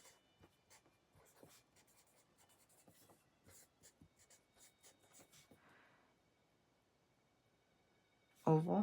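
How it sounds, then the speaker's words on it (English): A pen writes notes on paper in quick close scratchy strokes with short pauses, soft and steady, before a burst of talking near the end. "I will write these down."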